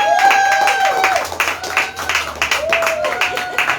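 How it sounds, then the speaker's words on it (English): Church congregation applauding the fathers during a Father's Day service: dense, steady clapping from a crowd fills the whole stretch, with a few voices calling out over it. "Let's give the fathers a big round of applause."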